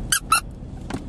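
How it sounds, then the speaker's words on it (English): A squeaky ghost-shaped dog toy squeaks three times up close, two quick sharp squeaks followed by a softer third after a short pause, with no talk. "he likes to play tug of war, but then he likes it to squeak and it squeaks"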